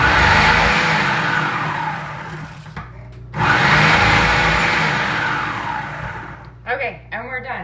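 Cucumbers for bread and butter pickles are sliced in two long, loud, whirring and grinding passes with a brief pause between them, followed by a few short clattering bumps.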